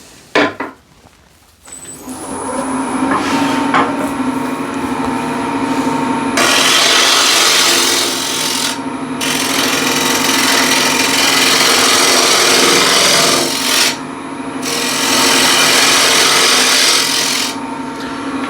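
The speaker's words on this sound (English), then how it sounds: "just turn it around and true up the tenon, so I have it nice and ready" A wood lathe turns a wooden container while a tool trues up its tenon, producing a loud, steady rasping and scraping with a constant motor hum. The cutting stops briefly twice before resuming.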